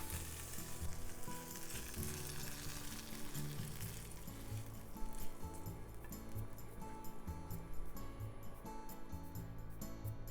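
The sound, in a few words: sausage frying in a pan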